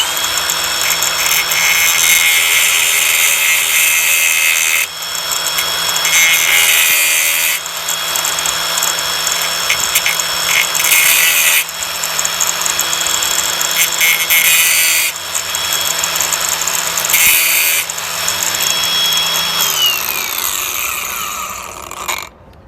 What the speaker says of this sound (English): So I'm just using a cutting wheel here on my grinder.